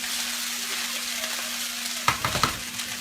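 Rice cooking on a hibachi stove gives a steady close sizzle with a constant hum beneath, then a few sharper scraping, stirring clatters near the end as the rice is spread out.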